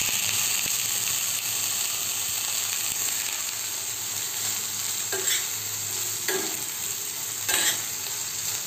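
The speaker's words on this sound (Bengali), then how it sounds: "এরপরে আমি বেগুনটা তুলে দিচ্ছি।" Chopped brinjal hisses and sizzles steadily in a hot pan over medium flame, with a few sharp scraping clicks of a spatula stirring near the end.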